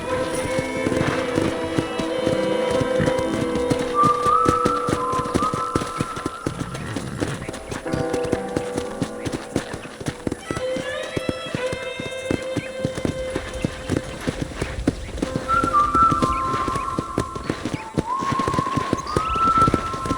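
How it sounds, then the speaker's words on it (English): Horse hooves galloping in Red Dead Redemption, a quick, rhythmic clip-clop of hooves continuing throughout, layered with steady game background music. "let's see if you can still ride a horse."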